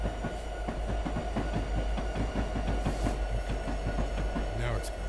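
A locomotive in the Train Sim 2017 video game rolls along with a steady, rhythmic clickety-clack of wheels over rail joints above a constant low engine rumble.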